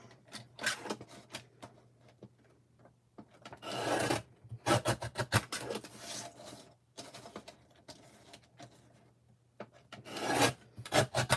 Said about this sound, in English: I'm not even measuring, I'm just trimming.